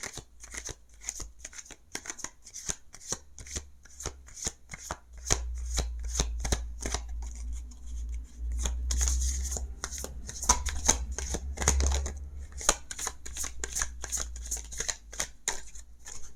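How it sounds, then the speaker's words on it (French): Tarot cards are shuffled over and over at close range, a long run of quick papery riffles and snaps with a low steady hum beneath. "Je vais tirer quelques cartes pour mes chers amis vierges"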